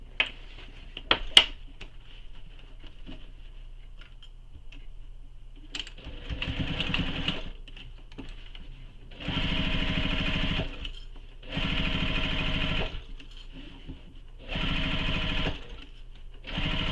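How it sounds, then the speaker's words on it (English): A sewing machine stitches the long edge of a Danbury tote bag seam in four separate runs, each a loud steady whir lasting a couple of seconds with quiet pauses between and a few clicks at the start. "So now I'm going to sew this long edge, starting and stopping at that mark that we made on our base panel"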